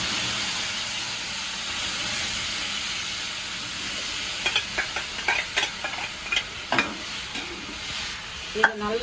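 Ground tomato paste cooks in oil for Tamil tomato thokku, a steady close sizzle and hiss broken in the second half by a run of scraping stirs and spoon knocks, with one sharp clank near the end.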